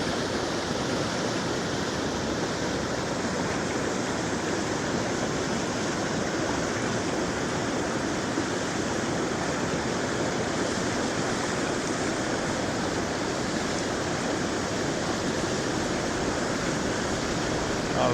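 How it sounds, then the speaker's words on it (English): A stream running along a spring backroad in rural Nova Scotia, a steady close rush of flowing water filling the whole stretch without a break and with no voices over it. "Watching the water go down through."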